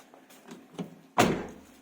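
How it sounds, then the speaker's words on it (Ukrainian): The rear door of a Skoda Octavia Tour is worked open: a few faint taps and rattles at the handle, then one sharp, close thunk as the latch releases. "І після цього дверка відкриється."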